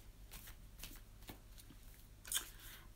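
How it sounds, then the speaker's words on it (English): Oracle cards being shuffled by hand in a quiet room, several soft riffling bursts with a sharper flutter near the end, faint and close, no talking. "while I shuffle the cards"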